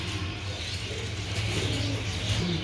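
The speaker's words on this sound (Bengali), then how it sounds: "খুবই সুন্দর কবুতর" Pigeons kept as a breeding pair give soft, low, repeated cooing close by, a continuous burbling murmur with a faint chirp on top.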